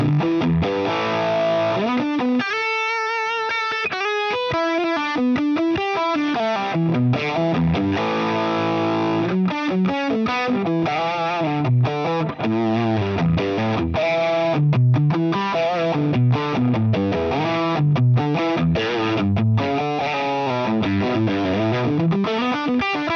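Electric guitar played through a Zen Drive overdrive pedal model on an Axe Fx, a continuous distorted melodic line with sustained notes and quick runs, loud and upfront with no talking.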